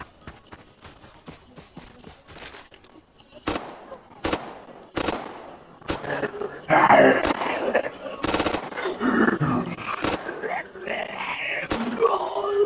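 Rapid bursts of video game gunfire crackle repeatedly, from sharp single shots to dense sustained volleys, over a continuous background of in-game noise.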